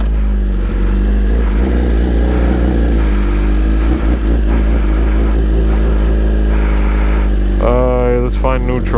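BMW S1000RR sport bike fitted with an Arrow Pro Race titanium slip-on exhaust, heard while riding: a steady, loud engine drone at cruising revs that rises into a sharp rev climb near the end.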